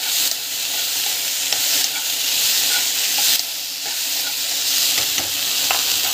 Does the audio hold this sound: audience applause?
no